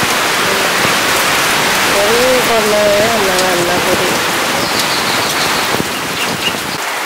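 Heavy rain pours steadily during a village storm, a dense hiss throughout, while a person speaks briefly over it in the middle.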